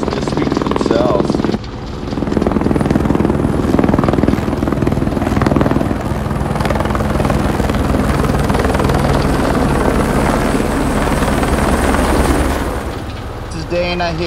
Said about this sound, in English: We're gonna fly the helicopter back to its base pad and land on the mobile ATV landing pad